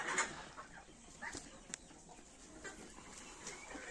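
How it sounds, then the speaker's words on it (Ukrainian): Legbar hens on a farm give soft, scattered clucks and short calls, faint and at a little distance, over a quiet outdoor background. "Дев'ять курочок з гарними характерними ознаками породності легбар"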